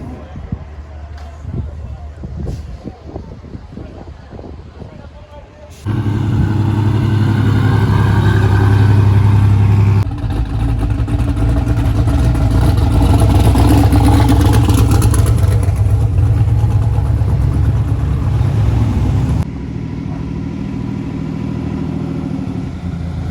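A GMC Typhoon V6 all-wheel drive engine roars loudly and steadily at high revs, easing off near the end, at a drag racing record event.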